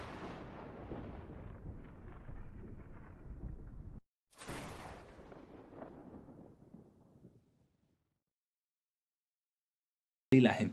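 Abnormally long, loud thunder from unusual lightning over a city, heard as a low rolling rumble that fades out, then a second rumble after a brief gap, ending in a sudden loud burst.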